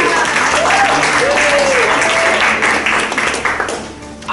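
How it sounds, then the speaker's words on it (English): Open mic night audience clapping for a performer, loud and sustained at first, then tapering off toward the end, with scattered voices and a whistle-like tone mixed in. "let's give a big round of applause for young Pat."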